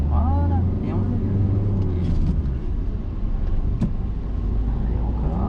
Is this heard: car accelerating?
yes